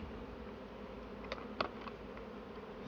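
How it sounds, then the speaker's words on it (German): A collected honeybee swarm, an afterswarm, hums with a faint continuous buzz and a few brief louder passes of nearby bees, with no voices. "somit habe ich auch den Bienenschwarm erfolgreich gesammelt"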